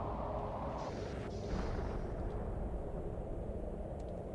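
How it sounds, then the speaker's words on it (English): A rocket launch in the survival game Planet Crafter, a steady low roaring rumble sustained throughout with a brief brighter hiss early on, loud and continuous with no talk. "There's not too much else we can do other than keep launching rockets"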